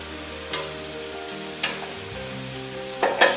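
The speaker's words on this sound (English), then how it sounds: "get the fluid cooked out of the mushrooms, anything that's naturally in them" Sliced mushrooms and leeks sizzling as they cook down in a pan, a steady soft frying hiss broken by a few sharp stirring scrapes of a utensil, close and fairly quiet, with no talking.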